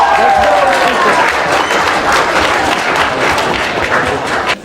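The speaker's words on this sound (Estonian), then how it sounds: "Suur aplaus!" A school Christmas party audience applauds ninth-grade students coming on stage: a full, sustained roar of clapping from a crowd, with a faint voice and a brief tone early on before the applause thins slightly at the end.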